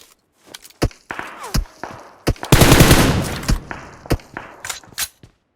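Gunfire in a competitive online shooter match: sharp single shots and short bursts, then a dense fusillade in the middle, scattered loud reports throughout with no talk over them.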